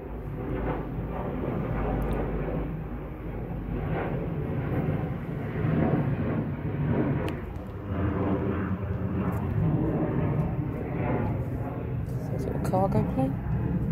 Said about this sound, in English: Cargo plane, passenger one,